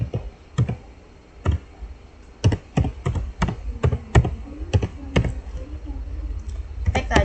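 Keystrokes on a computer keyboard while entering switch configuration commands such as a hostname, sharp separate clicks in an irregular rhythm, close and fairly loud with no speech over them.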